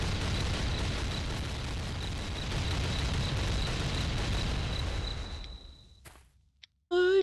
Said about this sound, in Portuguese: Bomba, moço. É bomba, moço.